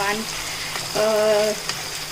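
Giant prawns sizzle in a hot pan for a curry, giving a steady close crackling hiss with a faint tonal whine partway through.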